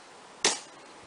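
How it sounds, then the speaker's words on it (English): Dry fire of a gun in a target-shooting game, a single sharp mechanical click with no shot, isolated against a quiet background. "Dry fire."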